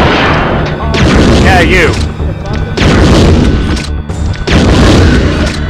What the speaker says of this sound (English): Why is everything trying to explode?